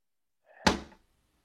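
A single solid thunk of a long dresser drawer being pushed shut after silk ties are laid inside, close and short with a quick fade in an otherwise quiet room.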